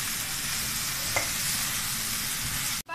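Chicken cheese roll mixture seasoned with salt is stirred in a pan, giving a steady soft scraping hiss with a sizzle underneath that runs alone for about three seconds, then cuts off abruptly.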